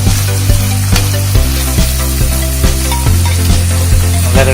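Food stir-fried in a pan with vegetarian seasoning powder sizzles steadily, with a constant frying hiss punctuated by regular clacks of utensil strokes over several seconds, no voices.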